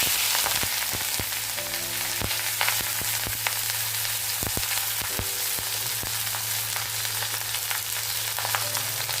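Bitter gourd, potato and pumpkin fry together in a pan with a loud, continuous sizzle, punctuated by frequent sharp clicks and scrapes of stirring, heard close with no voices.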